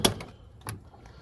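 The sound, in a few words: unlocking the doors of a 1999 Lincoln Town Car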